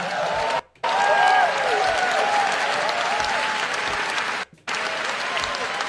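Audience applause breaks out during a Filipino political speech, dense and sustained with two brief drop-outs, carrying cheers and shouts over the steady clapping.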